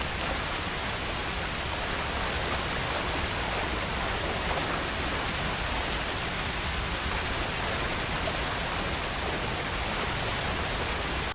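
A waterfall in Red Dead Redemption 2, a dense, unbroken roar of falling water, loud and close, steady throughout with no voices or other sounds.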